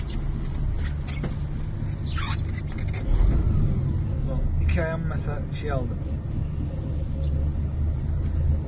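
A truck's engine runs steadily just after starting, a low, constant rumble at close range, while someone talks over it throughout.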